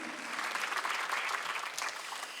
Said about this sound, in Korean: 박수를 치며 하나님께 영광을 돌리시라고요